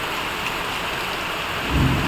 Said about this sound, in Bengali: সেই লেভেলের ঝড় বৃষ্টি তুফান নেমেছে